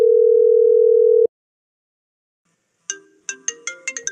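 A phone rings in a Tamil cartoon: first a steady electronic tone, then after a pause a bright, rising ringtone melody of quick repeated beeps, loud and close.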